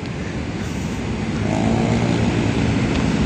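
A boat motor runs steadily on the Pasig River, a continuous loud engine drone with broadband water and wind noise throughout, no talk.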